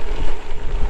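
Wind blows across a gravel bike trail, a loud, dense low rumble of gusting air buffeting the microphone for a brief moment.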